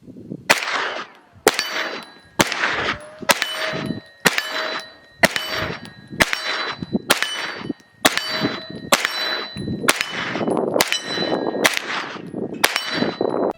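Steel targets ring out as 9mm rounds from a Freedom Ordnance FX-9 pistol-caliber carbine strike them at 50 yards, a dozen or so sharp shot-and-clang pairs at a steady, unhurried rhythm, each with a bright metallic ring.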